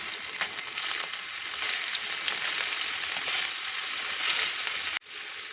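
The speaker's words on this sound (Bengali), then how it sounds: "তেলটা গরম হয়ে গেছে, এবার আমি নুন হলুদ মাখানো মাছগুলো এর মধ্যে ছেড়ে দিচ্ছি।" Turmeric-and-salt-coated prawns frying in hot mustard oil, giving a bright, steady sizzle with crackling pops, close and even, until it cuts off abruptly near the end, with no voices.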